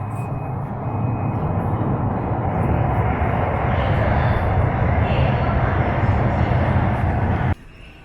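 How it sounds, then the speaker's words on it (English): A driverless Shanghai Metro train pulls into a station with a loud, steady rumbling roar that builds slightly and then cuts off abruptly. "Here comes the train. It's another driverless train."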